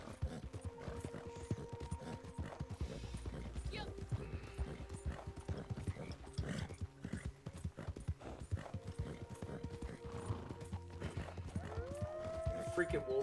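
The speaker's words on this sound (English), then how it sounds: "The horses are broken in this game with the constant crashing" Horse hooves clip-clop at a gallop in Red Dead Redemption 2, a dense rapid rhythm running throughout under game sounds and a player talking, with faint whinny-like tones.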